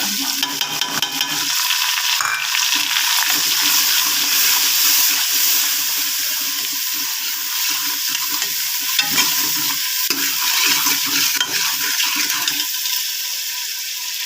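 Browned onions and a spice masala fry loudly in a pan for a potato, cauliflower and radish-pod curry, with a steady hissing sizzle broken by repeated stirring scrapes and knocks throughout.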